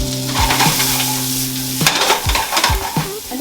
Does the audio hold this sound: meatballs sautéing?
yes